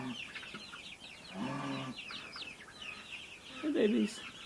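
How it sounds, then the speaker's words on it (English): Young backyard chickens, a mix of young hens and roosters, give soft clucks and peeps at close range, with one louder squawk near the end, over quiet background noise. "some of them are roosters, some of them are hens"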